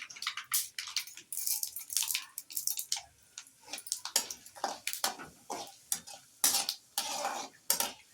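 Mustard seeds splutter and dals fry in a hot pan while poha upma is cooked, giving irregular bursts of crackling and popping that come in clusters with short quiet gaps between.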